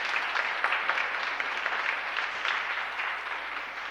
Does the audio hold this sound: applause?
yes